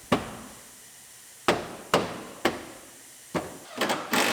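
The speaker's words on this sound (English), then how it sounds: "We'll use our bumper installation tool to install this quarter panel trim." A bumper installation tool presses quarter panel trim into place on a rebuilt Toyota Rav4, giving a series of sharp, close knocks spaced irregularly, with a quick double tap near the end.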